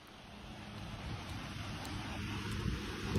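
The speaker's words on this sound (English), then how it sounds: "Look at it, mate. It's the ocean." Ocean waves wash continuously along the shore with steady wind buffeting the microphone, a broad rumbling surf that grows slightly louder toward the end.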